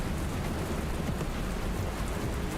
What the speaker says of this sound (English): Holy moly, what a rain.